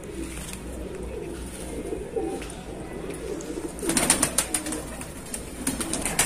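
Shahjahanpuri breed pigeons coo in low, soft, repeated calls, with brief fluttering taps and rustles rising toward the end.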